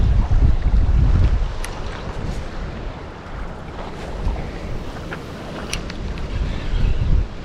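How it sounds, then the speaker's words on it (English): Strong, gusty wind roars across an open microphone while fishing from a bridge, with loud low buffeting that swells and fades, and faint splashing of water below. "First cast, it's super, super windy."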